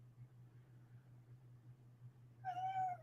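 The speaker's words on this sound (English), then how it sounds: "the cat's here now bothering me" A cat meows once, close and clear, near the end over a quiet room with a low steady hum underneath.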